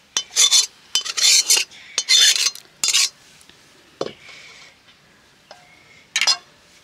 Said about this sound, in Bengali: পুরো ছানাটাই আমি কড়াই থেকে নিয়ে নিচ্ছি।